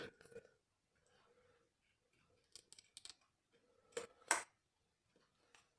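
Small nail scissors snipping model kit decals for a Folland Gnat T1, with scattered faint rustles and several crisp close snips clustered toward the end, some quiet gaps between.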